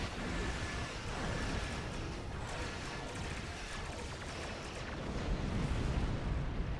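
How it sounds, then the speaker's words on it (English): Dense, continuous rumbling explosions from a torpedo spread in the space combat game Star Trek Online fill the whole stretch, loud and steady with crackling bursts layered over a heavy low roar. "This torpedo spread's so satisfying."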